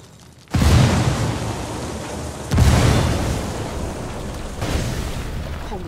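A frag grenade explodes in Ghost Recon Wildlands with a sudden loud blast, followed by two more heavy booms about two seconds apart, each trailing off into a long rumbling debris roar, close and without speech.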